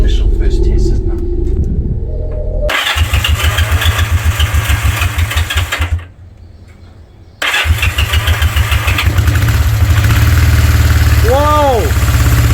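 A restored classic Honda CB125 or CB360 motorcycle engine cranks and fires on its first test run, sputtering into a loud, rapid idle, dropping out briefly, then roaring back with revving, while people talk nearby.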